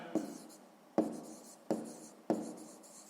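Pen on paper writing out a sixth-grade math exercise, four short distinct scratchy strokes at even intervals, quiet and close, with no talking.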